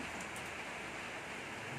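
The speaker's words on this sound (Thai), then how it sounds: "พี่น้องฝนตก เบิ้งเอาโลดค่ะพี่น้อง" Steady rain pours down outdoors in a Thai town market area during a downpour, a dense continuous hiss throughout with no voices.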